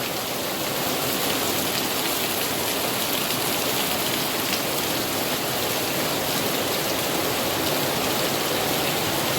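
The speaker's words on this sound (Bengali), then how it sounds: "মনে হচ্ছে পাম্প চালিয়ে উপর থেকে জল ঢেলে দিচ্ছে এত ভারী বৃষ্টি" Heavy, continuous rain pours down outdoors in the Sundarbans, a dense, loud, unbroken roar of water with no pauses and no voices.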